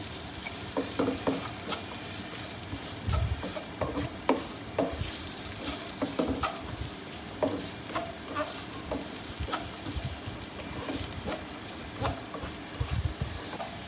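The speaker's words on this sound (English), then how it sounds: "1/3 cup of carrots, Okay. saute for a couple of minutes." Carrots and green beans sauté in a pan for a Chinese sizzler: a continuous, moderately quiet sizzle punctuated by irregular stirring scrapes and clicks of a utensil against the pan.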